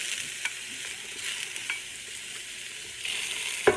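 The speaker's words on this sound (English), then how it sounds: "So putting the piece, there's a sizzle for you." Octopus sizzles steadily in a hot pan with soft crackles, louder in a short burst toward the end, with a sharp clink at the close.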